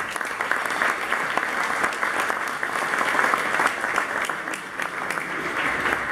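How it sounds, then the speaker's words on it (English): Steady applause from a crowd at a business awards presentation in North Kansas City, dense clapping sustained throughout at an even, fairly loud level. "Let's give them all a round of applause."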